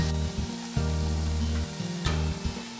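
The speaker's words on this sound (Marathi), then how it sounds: "हळूहळू हे तेलामध्ये सोडायचे आहेत। दोन्ही बाजूनी व्यवस्थित तळून घ्यायचे आहेत आपल्याला।" Mixed vegetable gharge fry in hot oil with a steady, close sizzle, broken by a few brief sharp bursts as pieces are slipped in or moved. Nobody is heard talking.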